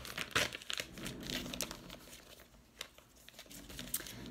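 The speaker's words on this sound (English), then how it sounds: "So I'm just going to fold on this area just to get a nice crease. And then I'm going to rip it apart." Folded plastic sheet mask package torn apart by hand, giving a close, soft run of crinkling and ripping rustles that stay fairly quiet throughout.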